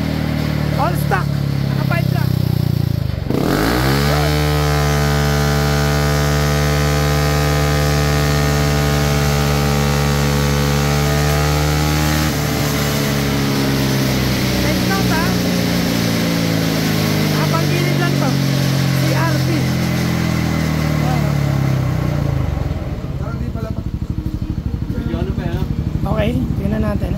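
A stock Yamaha Aerox 125 scooter engine revs hard and loud up close, its pitch climbing and holding before it drops back and settles, with people talking over it.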